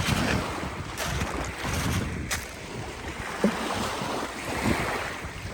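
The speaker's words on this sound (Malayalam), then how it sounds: "അതിൻ്റെ ആ അലയടി ശബ്ദം കേൾക്കാൻ നല്ല രസമുണ്ടല്ലേ" Sea waves washing onto the shore in a continuous rushing roar, with gusty wind buffeting the microphone.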